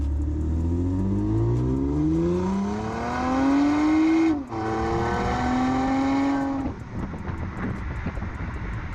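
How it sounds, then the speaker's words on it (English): A Toyota Camry TRD sedan's engine revs up through the gears in a valley, pitch climbing then dropping at each shift, loud and close, easing off toward the end. "take this car for a proper drive here in the valley"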